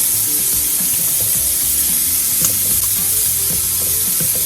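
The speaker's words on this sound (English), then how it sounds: "We want them just to saute a little." Shrimp sautéing in a single pan of sausage and rice, a loud, steady sizzle and crackle with occasional stirring knocks, close and continuous throughout, no talking.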